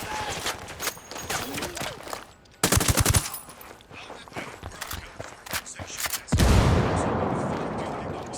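Turret machine gun fire in Ghost Recon Wildlands, heavy rapid bursts, with one dense loud volley midway and a sustained roaring barrage near the end, over a busy game background.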